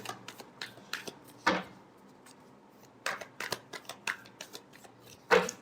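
Tarot cards being shuffled by hand, a series of short crisp riffling and slapping bursts with brief pauses between them, close and fairly quiet.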